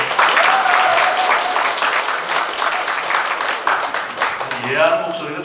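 A crowd at a public citizens' dialogue meeting in Yeongi-myeon claps loudly and densely for about four seconds, then the applause fades out as voices return.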